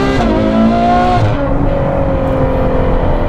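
A Novitec Ferrari 812 N-Largo S roars loudly up close, its layered induction and exhaust notes falling in pitch as the revs drop, then holding a steady growl.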